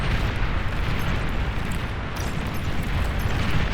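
Bombing-run explosions in the real-time strategy game Beyond All Reason, a dense, continuous barrage of loud booms and rumbling blasts layered over one another without pause, with no voices.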